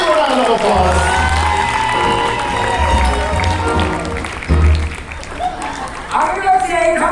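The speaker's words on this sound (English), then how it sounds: "Give them all a big round of applause." A theme park special effects show crowd applauds and cheers, a broad wash of clapping and scattered shouts rising and falling while a voice speaks over it, loud and near.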